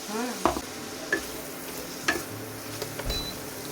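Green chillies tempering in hot oil on a home stove, a few short sharp sizzling bursts and stirring clatters spaced apart, with a low steady frying hiss beneath.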